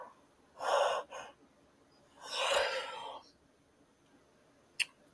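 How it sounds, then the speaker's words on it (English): A person yawning late at night in a studio: two breathy, drawn-out exhalations about a second apart, then a longer airy yawn, close and fairly quiet, followed by a brief sharp click. "I was yawning."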